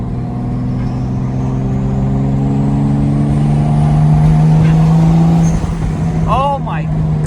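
A 1957 Ford Thunderbird engine idles loudly and steadily close by, a deep rumbling hum that swells slightly midway, with a person speaking briefly over it near the end.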